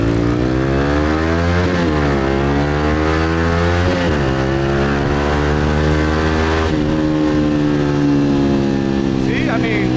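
A vehicle accelerates hard on a Saigon street, its engine note climbing steadily through several gear changes over about ten seconds, loud and close, while voices talk over it.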